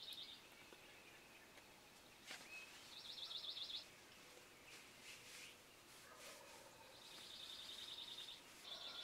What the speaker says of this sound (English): We've got birds gobbling pretty much all the way around us.